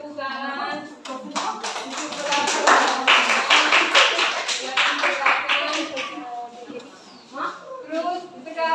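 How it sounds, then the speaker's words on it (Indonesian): Schoolchildren in a classroom clap together in a sustained burst of applause lasting several seconds, dense and close, with a voice speaking before and after. "kita tepuk tangan untuk"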